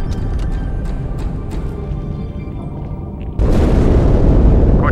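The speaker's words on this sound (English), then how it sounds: "That explosion came from inside the Athens." An explosion inside a ship in Halo 2 arrives as a sudden deep boom that cuts abruptly into a rumbling ambient background and holds as a loud, sustained roar to the end, with no voices.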